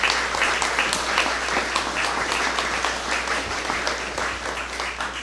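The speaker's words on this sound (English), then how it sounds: "let's give them a round of applause" A crowd at a community recreation center ribbon-cutting news conference applauds young artists, dense sustained clapping from many hands, fairly loud and close, steady throughout with a low background hum beneath.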